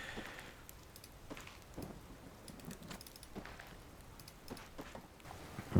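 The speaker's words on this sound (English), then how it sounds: "it's just heavy rains, so it should be okay" Heavy rain falling outside in the survival game Card Survival Fantasy Forest, a steady faint wash of drops with soft patters throughout and a sharper knock at the very end.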